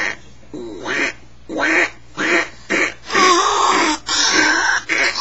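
A person's voice imitates a sick duck, giving a series of rough, nasal quacks in separate bursts, close and loud, with no other talk.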